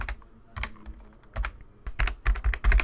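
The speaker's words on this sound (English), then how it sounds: "I'm going to type in the address that I took from my office machine" Keys are tapped on a computer keyboard in short uneven bursts while an address is entered for a remote desktop connection, close and crisp, with brief pauses between clusters of keystrokes.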